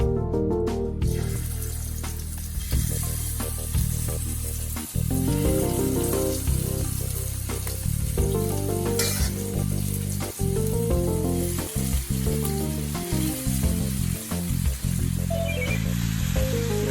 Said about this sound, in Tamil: மேரினேட் பண்ணி வச்சுருக்க ப்ரான்ஸை வந்து நம்ம ஆயிலில் ஃப்ரை பண்ணிக்கலாம்.